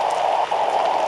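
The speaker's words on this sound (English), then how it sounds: "Acid rain." Acid rain falling in the Roblox Natural Disaster game, a loud, steady hiss of rain with no pauses.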